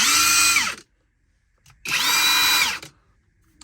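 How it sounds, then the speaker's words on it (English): Two Hercules Ultra Torque Gen 2 impact wrenches run in turn, each giving a loud, close, high-pitched whine lasting under a second, separated by a short pause. "The ultra sounds very similar because they do share the exact same motor."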